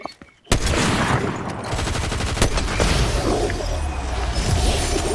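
Video game gunfire bursts in quickly after a brief quiet opening, then rapid, dense shots and crashes keep going at steady loud volume, with a few sharper cracks standing out.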